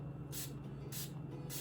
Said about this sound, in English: I'm gonna spray the spoolie with a setting spray.